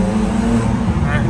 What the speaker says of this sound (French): On va profiter de la sonorité dans le petit tunnel du plaisir.